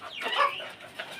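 Chickens cluck on a small backyard mini farm, a close, loud burst of several quick hen clucks followed by a softer call, with no talking.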